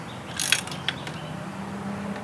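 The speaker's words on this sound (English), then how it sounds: "Let's tighten up this one last bolt, connecting bolt on top." A ratchet wrench clicks a few times as it tightens the top connecting bolt on the lower unit of a 1975 Evinrude 40 HP outboard: short, close metallic ticks with brief pauses between them.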